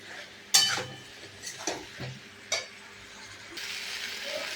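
Banana being sautéed with tomato juice in a pan for a banana fish curry, with a few sharp spatula scrapes and knocks against the pan over a steady low sizzle.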